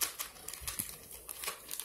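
Plastic bags for punched-out board game pieces crinkle and rustle in close, uneven bursts while a game box is unboxed, a steady crackling texture with no one talking.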